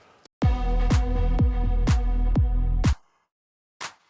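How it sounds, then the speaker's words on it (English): A basic electronic clap sample for dance music production, struck six times at an even pace with a reverb tail after the last hit. One more short hit follows after a silent gap, and there is no talk. "in the first part, I added some claps here."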